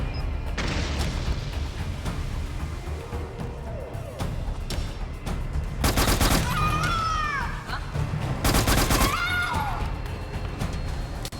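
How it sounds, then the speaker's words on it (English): Gunfire in Metal Gear Solid 4 during a firefight, with bursts of shots and rattling volleys over steady background din, the loudest bursts landing around the middle and later stretch, close and sharp. "Not the fanciest shooting, but effective"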